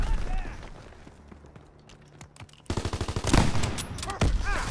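Machine gun bursts and single shots from Call of Duty WWII multiplayer, a quieter stretch of scattered reports giving way to loud, rapid rattling fire in the second half, mixed with game noise.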